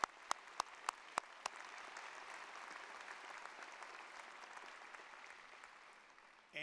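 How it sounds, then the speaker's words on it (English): Sustained applause from a graduation ceremony audience honoring a commencement speaker, soft and distant-sounding with a few sharp nearby claps at the start. "Let's give Dr. Flaten another round of applause for his inspirational words."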